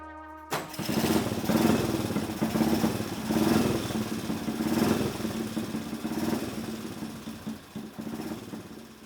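A custom motorcycle engine sputters to life in a workshop and runs unevenly, revving up and down in rough pulses close by, with no talking.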